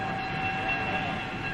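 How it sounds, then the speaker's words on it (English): A 1950s passenger train standing assembled at a station, giving a steady rail-yard hum with a thin sustained whistle-like tone held throughout, moderately loud and continuous with no talking. "Here's Bob's train all put together, ready for the passengers"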